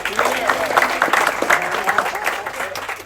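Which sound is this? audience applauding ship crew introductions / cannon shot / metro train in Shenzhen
audience applauding ship crew introductions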